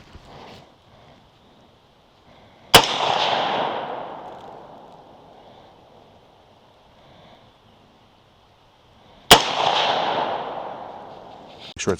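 A child's rifle fires two sharp, loud shots about six seconds apart, each cracking out and ringing away in a long outdoor decay, with wind and quiet stretches between.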